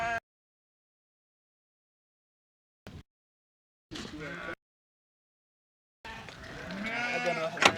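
Dorper sheep and goats on a Kenyan farm bleat in short separate bursts broken by silence, ending in a longer, louder nearby bleat.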